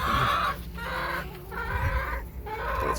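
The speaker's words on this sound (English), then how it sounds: "That's Rosie squawking" A hen squawks loudly and close by in a backyard coop, giving repeated harsh clucking calls over about three seconds.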